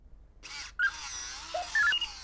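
A round rubberized Toki digital alarm clock going off with short electronic beeps and chirpy tones in bursts, fairly faint, over a soft hiss.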